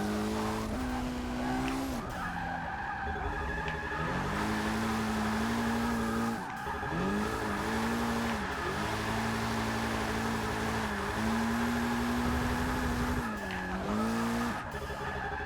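A 2008 Mitsubishi Lancer Evo X GSR drifting in the Forza Motorsport 6 racing game, its engine droning loud and steady with pitch dips and rises at each slide, while tires squeal continuously throughout.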